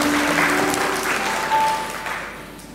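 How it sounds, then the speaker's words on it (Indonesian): Congregation clapping during a church service, a dense burst of applause that starts at full strength and gradually tapers off over a few seconds, with faint tones and murmurs underneath. "Kita berikan tepuk tangan buat Tuhan kita."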